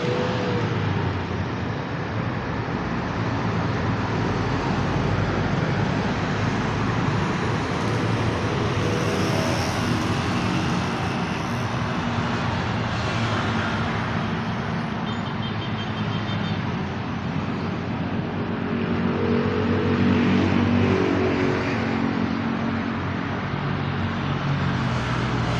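Steady road traffic outside the Ciamis police station on the Ciamis–Tasikmalaya route during the holiday homecoming jam, a continuous dense rumble of car and motor engines with vehicles passing by, loud and unbroken for the whole stretch.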